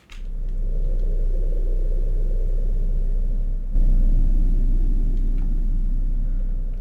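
Designed dark atmosphere of a grim living space, a heavy continuous low rumble treated with modulation, flanger, bitcrushing shaper, delay and reverb, which cuts out and swells back in about halfway through.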